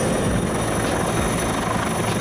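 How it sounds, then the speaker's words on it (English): Loud, continuous rotor and engine noise of a firefighting helicopter, close and steady throughout with no other sounds. "Firefighting helicopter."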